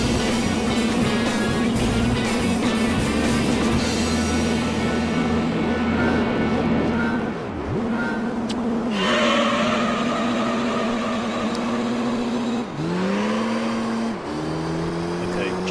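Race cars in Gran Turismo 3 roar off the line at the start of the Amateur Dream Car Championship final. A steady engine drone rises and shifts as gears change, with a voice commenting over it.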